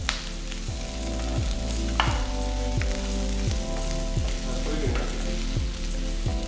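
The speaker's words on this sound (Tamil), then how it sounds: "இப்போ வெங்காயம் பார்த்தீங்கன்னா ஒரு அளவுக்கு நல்லா வதங்கியிருக்கு" Onions sautéing in a pan for Madurai-style chutney, a loud continuous sizzle and crackle close up, with a low rhythmic hum pulsing beneath throughout.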